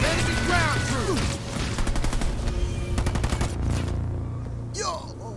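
Rapid bursts of gunfire from a Halo Wars 2 battle as marines fight enemy ground troops, a dense crackle of shots and machine-gun fire over game effects, with a short swooping sound near the end.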